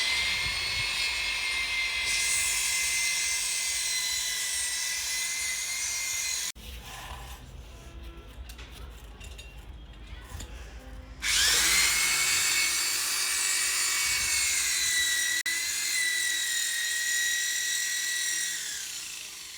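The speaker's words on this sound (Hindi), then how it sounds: "ड्रिल मशीन से मैं कर रही हूँ अब होल।" An electric drill bores holes for mounting a terrace shelf, giving a loud, steady high-pitched whine that cuts out for a few seconds midway and then starts up again.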